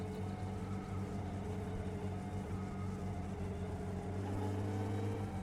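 A rally car's engine idling and running at low RPM, a constant, dense, rumbling drone with steady low harmonics and no clear revs, close and continuous throughout.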